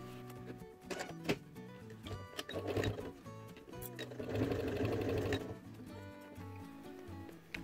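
A sewing machine topstitches close to the edge of a fabric organizer with clear plastic pockets, its needle running in quick, steady stretches with brief pauses between runs.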